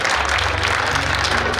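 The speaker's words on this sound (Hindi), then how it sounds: "क्या बात है, ताली बजाती हुई" Dense, steady applause from a crowd fills a Jain temple celebration hall, continuous and fairly loud over a low background hum, with no pauses.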